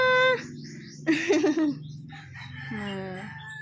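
A rooster crows loudly, with chickens clucking around it and a few bird calls, all close by, in a small backyard in Sorsogon, Philippines.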